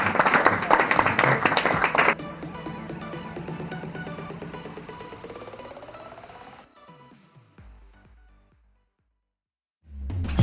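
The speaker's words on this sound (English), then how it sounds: "Thank you very much, and a big applause." An audience at a women's disc golf summit in Bilbao applauds loudly for about two seconds, then the clapping gives way to a fading musical passage that drops into near silence before sound returns at the end.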